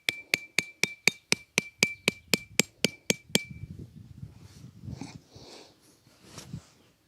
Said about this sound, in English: So take out my hatchet. It's going to be used as my hammer.